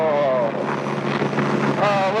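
A paramotor engine drones in flight, a close, steady buzzing hum with a pitch that wavers and climbs slightly, accompanied by rushing wind noise.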